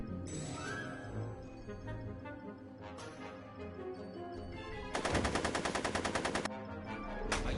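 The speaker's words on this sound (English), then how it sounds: "Are you shooting at me?" In the Back to the Future adventure game, a few scattered gunshots ring out, then a loud, rapid burst of automatic fire lasts over a second before the game's background sounds return.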